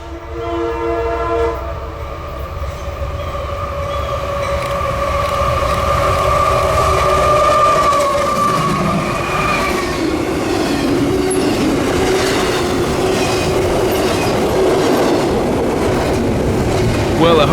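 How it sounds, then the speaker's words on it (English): An older AC-44 and a Norfolk Southern DC-to-AC conversion locomotive race past trackside on the KCS Vicksburg subdivision. Loud horn blasts come first, then a heavy, close rumble and steady wheel clatter build and hold. "An older AC-44 and a Norfolk Southern DC to AC conversion unit race by us"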